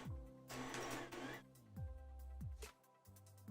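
A Creality Ender 3 3D printer with its stock mainboard runs loudly, its stepper motors whining in rising and falling pitch sweeps with bursts of rattling motion noise in between.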